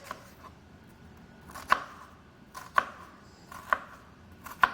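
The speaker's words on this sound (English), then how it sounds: "We're going to do the same thing to the other side of our onion, cutting back to that root, but not through it." A knife dices an onion on a cutting board for lentil stew, making four crisp, isolated chops spaced roughly a second apart against a quiet kitchen background.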